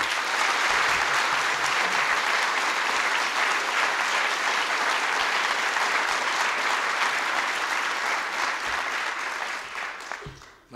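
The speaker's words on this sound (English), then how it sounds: "Let's have a warm round of applause for these exceptional Americans as well." A large audience gives a warm, sustained round of applause at a presidential Volunteer Action Awards ceremony, dense clapping holding steady for about ten seconds before fading out.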